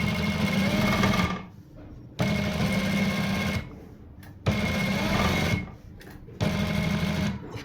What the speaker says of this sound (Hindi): और किनारे पे सिलाई